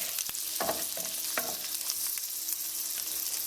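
Trout fillet sizzles skin-side down in a hot pan, a steady bright frying hiss throughout with a few soft scraping clinks early on.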